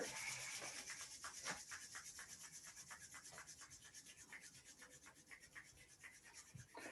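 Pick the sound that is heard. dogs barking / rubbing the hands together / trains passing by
rubbing the hands together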